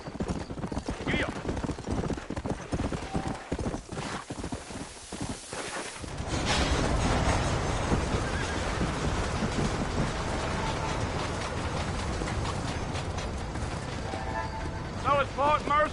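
Horses clip-clopping and a whinny in the western game Red Dead Redemption, steady hoofbeats continuing throughout with a louder, denser stretch in the second half and ambient game sound underneath.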